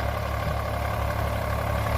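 An Eicher tractor engine with over 25,000 running hours runs steadily at 1500 rpm, a continuous low, heavy throb at even loudness with no talk.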